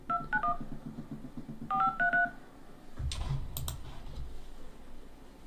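Phone keypad dialing tones: two quick bursts of short, evenly spaced DTMF beeps, a few presses each, followed by a muffled rustle and handling clatter, all close and clear with no speech.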